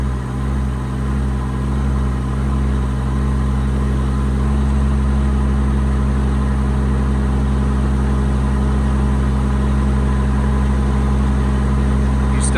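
A 2019 Kenworth T370 mechanics truck engine idles steadily and loudly up close, a constant low diesel rumble with even vibration and no voices throughout.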